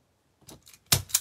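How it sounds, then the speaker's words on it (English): A zip tie gun cuts zip ties on a yarn-wrapped cross wreath: four short, crisp clicks in two quick pairs, the second pair louder and sharper, in a quiet room. "I'll grab my zip tie gun and cut those off."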